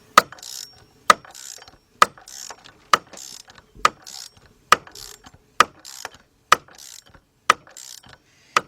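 Ratchet wrench turning a bolt to press a pulley onto a Ford Focus or Transit Connect power steering pump, giving about ten sharp, evenly spaced clicking strokes up close, each followed by a brief softer rasp, with no talking.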